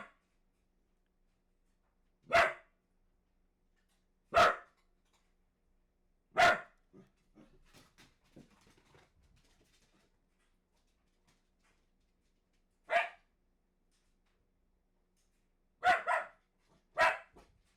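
A neighbor's dogs barking outdoors, single sharp barks spaced several seconds apart with a brief double bark near the end, moderately distant against near silence.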